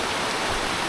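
Rain falls on a mountain trail on Mt. Malinao, a dense, even hiss of steady rainfall close around, with no voices.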